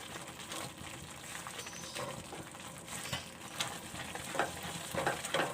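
Semolina halwa being stirred and cooked in a pan, with a steady soft sizzle under scraping, clinking spoon strokes that grow a little busier toward the end; no one speaks.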